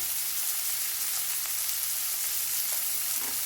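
Onions frying in a pan with salt for a bottle gourd milk curry, a constant dense sizzle at close range with a few faint scrapes and no speech.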